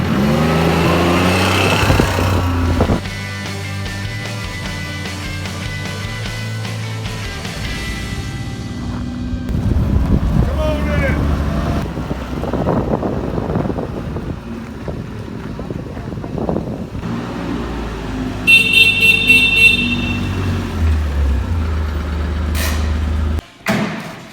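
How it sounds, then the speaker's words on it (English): A custom utility vehicle running laps outdoors on a ranch: engine rumble rising and falling under heavy wind buffeting on the microphone, with people talking over it. "I'll take this thing on a couple laps and we'll take it in the barn, get away from the wind noise"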